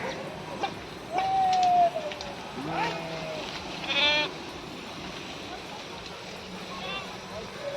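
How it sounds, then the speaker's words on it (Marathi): Sheep and lambs bleating near a village stream, a few short bleats rising and falling at moderate volume over a quiet outdoor background, spaced apart with pauses between calls. "ही आमची मेंढर बघा"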